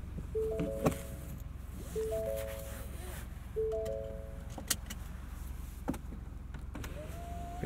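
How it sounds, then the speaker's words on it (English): Power windows on a 2021 Ford F-150 XLT SuperCrew run in several short motor whirs heard from inside the cab over low road rumble, with a few clicks and someone talking throughout. "We've got auto up and down driver and passenger front windows."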